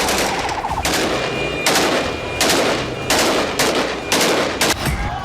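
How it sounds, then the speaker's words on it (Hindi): AK-47 rifles fire in celebration on a street as Syrian rebels shoot bursts of automatic gunfire, about six loud, closely spaced volleys in under six seconds. "सीरियाई विद्रोही सड़कों पर खुलेआम AK-47 से गोलियां दागकर मना रहे हैं"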